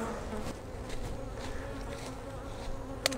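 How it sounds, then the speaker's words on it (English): A steady hum of many honey bees buzzing close by at a hive, with a brief sharp click near the end. "There's a few bees just right there in the center."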